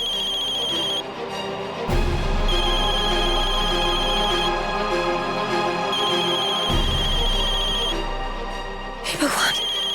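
A telephone rings with a steady repeating tone through a drama scene, sounding at moderate level beneath dramatic background music with loud impacts.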